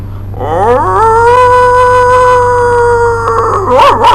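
A man imitates a dog's howl in a street-performance scene from a Hindi film, one long loud rising and sustained wail that wavers and breaks off near the end, heard close and alone.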